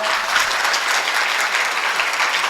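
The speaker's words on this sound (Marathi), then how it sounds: "महिला मंडळी वाजव बरं सर्वांना जोरात एकदा टाळी" A crowd of women clapping loudly together at a kirtan gathering, a dense, steady burst of applause lasting a couple of seconds with no talking.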